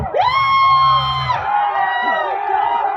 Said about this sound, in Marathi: अरे कोण ओरडलं